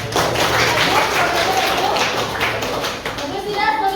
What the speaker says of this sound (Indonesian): Ya, tepuk tangan untuk Ihsan.